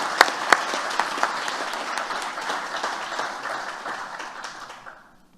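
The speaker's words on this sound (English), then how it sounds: "join me in a round of applause to thank these people" Audience applause at an economics conference, opening with a few sharp, distinct claps that swell into a full, steady ovation and then taper off to silence near the end.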